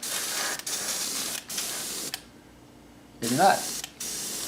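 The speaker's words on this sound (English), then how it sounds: "now I'm going to go ahead and use my airbrush with some acrylic paint in there" An airbrush loaded with acrylic paint sprays in steady hissing bursts, close and fairly even, broken by short gaps. A brief spoken remark comes during one pause.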